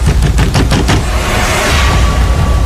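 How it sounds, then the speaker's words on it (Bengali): Heavy banging on a door as an audio drama effect: a rapid series of loud, close thuds in the first second, then a dense roaring hum carrying on. "দুম দুম করে আমার ঘরের দরজার উপর আবার দুবার প্রচন্ড আঘাত হল।"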